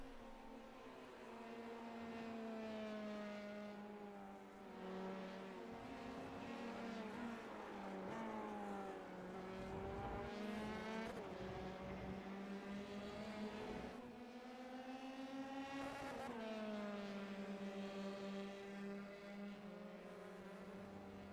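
F3 race cars lapping Circuit of the Americas in a sim racing game, engines whining and rising through gears with repeated revs and downshifts, a continuous loud buzzing engine note, no talk heard.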